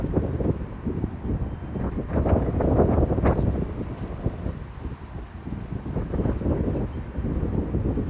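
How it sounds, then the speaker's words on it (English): Wind gusts outdoors during brake and axle work on a vehicle, buffeting the microphone with a loud, low, uneven rumble that swells and eases over several seconds, with no voices. "Where did all this wind come from today?"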